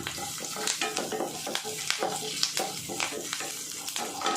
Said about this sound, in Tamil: பூண்டு நல்லா வாசனை வர வர வதக்கி